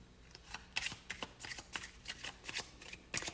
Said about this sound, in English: I will shuffle live.